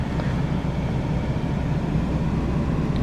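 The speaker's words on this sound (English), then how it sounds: "So you don't get an engine sound on startup. You just get sort of a futuristic whine," A BMW i8 starting up in comfort mode, with no engine note, just a steady low electric whine and hum that holds level from start to finish.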